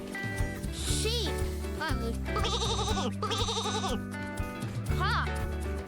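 A sheep bleats in two long wavering, quavering calls, loud and close, over cheerful children's background music with a brief voice.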